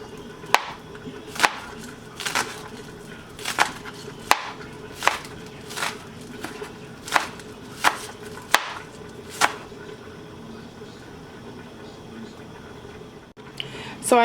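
A knife slices an onion thinly, giving about a dozen crisp, evenly spaced chops at close range with quiet gaps between cuts.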